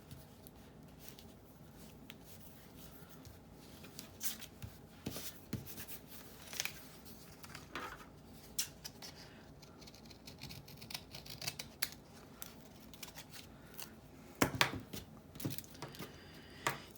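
Scissors snip through paper while faux postage stamps are cut for a craft project, with soft close snips and rustles scattered irregularly over a steady low hiss.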